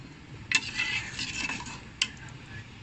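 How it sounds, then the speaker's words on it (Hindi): A spoon stirs a flour-and-water paste into a pot of beef nalli nihari, with steady soft scraping and two sharp clinks of metal against the pot. "और चम्मच चलाएंगे"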